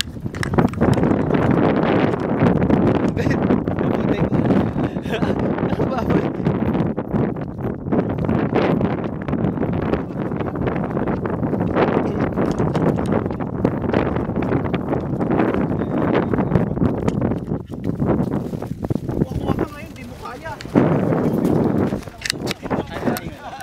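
Strong gusting wind buffets the microphone on an open waterfront in Jubail, a loud continuous roar with a few brief dips, and someone speaks over it.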